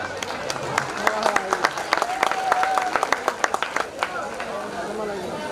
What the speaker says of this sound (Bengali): ওনার জন্য একটা হাততালি দেই